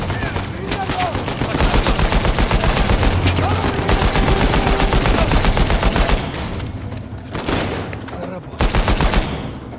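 Rapid gunfire in the video game Uncharted 4 rattles nearly nonstop at close range, dense automatic bursts with brief lulls near the end, loud and prominent throughout.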